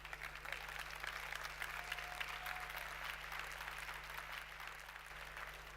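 A keynote audience at a startup conference applauds, the sustained, even clapping of a large crowd heard at a distance, with no speech over it.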